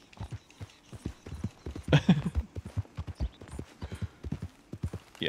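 Horse hooves in Red Dead Redemption 2 clip-clopping in a quick, steady rhythm, close and clear, with a brief rustling burst partway through.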